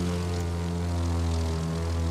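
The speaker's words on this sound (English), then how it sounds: "This is a stunt plane" A stunt plane's propeller engine in The Crew 2 drones steadily and loudly, a constant buzzing hum with strong even harmonics and no change in pitch, heard alone without talk.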